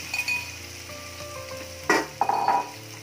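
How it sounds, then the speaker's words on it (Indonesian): Spice paste for a crab gulai sautés in hot oil, giving a soft continuous sizzle broken by a few louder bursts of frying and stirring near the end. No one speaks. "Minyaknya sudah panas, lalu kita akan menumis bumbu ya. Bumbunya kita tumis."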